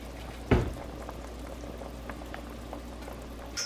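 A pot of chickpea soup simmers on the stove with a soft, steady bubbling and low hiss. One brief bump comes near the start, and no one talks.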